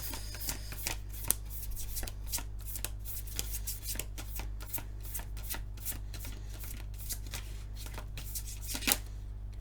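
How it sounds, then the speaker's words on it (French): Tarot cards are shuffled over and over, with crisp rapid riffles and flicks at an irregular rhythm, close and fairly quiet over a low steady hum, with no talking. "je vais mettre 2 heures à battre les cartes"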